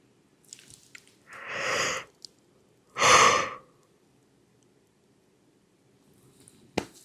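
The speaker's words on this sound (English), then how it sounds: "I cannot stop yawning." A person yawns up close, with two long breathy exhalations a second apart and a faint sniff or click near the end, alone in a quiet room.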